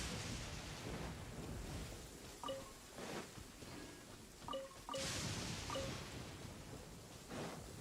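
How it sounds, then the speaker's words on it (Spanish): Rain falls steadily in a video game, a constant hiss broken by soft rumbles of thunder and occasional faint tonal blips from the game. "Aquí siempre está full lloviendo."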